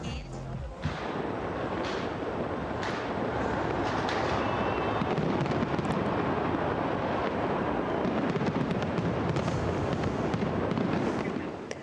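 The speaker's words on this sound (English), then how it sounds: "the year 2024 was welcomed with a spectacular and colorful fireworks display that lit up the ancient monuments of the Acropolis in Athens" Fireworks display over the Acropolis in Athens at New Year 2024, heard as a dense, continuous barrage of bursts and crackles with wind rumble on the microphone and no clear pauses.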